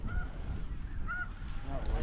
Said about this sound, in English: Look at that blue goose.